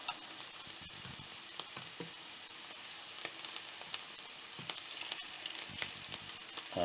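Oysters frying in a hot pan for an oyster omelette, a steady close sizzle with scattered crackles and pops throughout, no voices.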